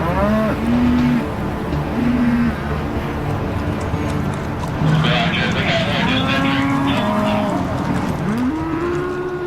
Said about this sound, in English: to keep the cattle in a safe area and just to keep them contained until we can get them safely off the highway